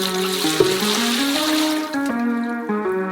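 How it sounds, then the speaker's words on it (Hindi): Three litres of water pour into a large saucepan in a home kitchen, a continuous splashing gush with shifting tonal ringing as the pan fills. "एक बड़े सॉसपैन में 3 लीटर पानी।"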